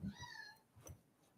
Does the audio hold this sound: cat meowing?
yes